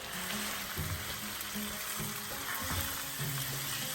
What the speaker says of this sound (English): Let it fry the lamb from all the sides